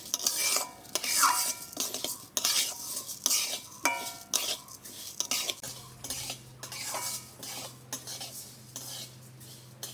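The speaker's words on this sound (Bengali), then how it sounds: "একটু সাদা তেল দিয়ে মুগের ডালটা ভেজে নিব।" Mung dal frying in a little white oil while being stirred, with repeated scraping and clinking of a spoon against the pan over a faint sizzle, close and busy for the whole stretch.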